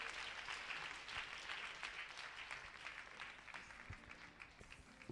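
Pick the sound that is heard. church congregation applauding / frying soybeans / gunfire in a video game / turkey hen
church congregation applauding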